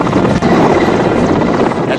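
A rescue helicopter hovers over flood waters in New South Wales, its loud, dense rotor roar filling the air continuously, very close and steady with no pause.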